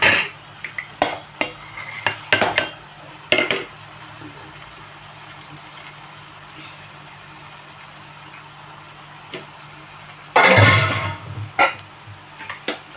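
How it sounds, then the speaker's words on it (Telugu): Spoon scraping and knocking in a pot as cucumber and dried shrimp curry is stirred, with scattered clinks early on and a louder burst of stirring near the end, faint sizzle beneath. "ఇప్పుడు దీంట్లో దోసకాయ వేసి అలాగే ఎండు రొయ్యలు కూడా వేసి"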